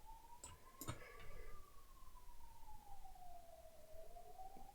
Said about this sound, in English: I just can't take the ambulance sounds.